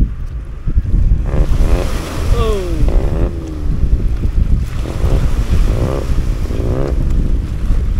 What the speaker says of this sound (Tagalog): Ayan po yung isang bangka.